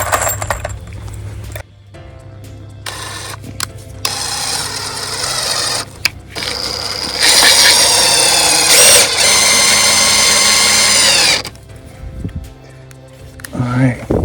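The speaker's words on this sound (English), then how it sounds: "So we'll go ahead and put 2 screws here to hold it" A power drill drives screws through metal joist hangers into wooden framing while building a tiny home's front porch; a loud, sustained whirring burst runs several seconds, framed by shorter drill bursts and a voice talking before and after.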